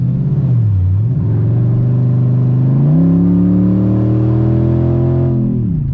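A 2012 Dodge Charger R/T AWD with a still-warming engine pulls away gently, its steady engine drone rising in pitch and then holding, close and continuous without talk.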